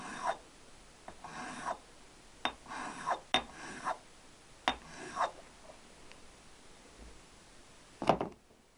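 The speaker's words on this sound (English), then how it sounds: "I'm just going to give them a bit of a rub over with a fine stone" A fine stone rubbed over Triumph T120R bottom-end engine parts during a rebuild, giving short scraping strokes in uneven bursts with pauses between them, close and fairly quiet.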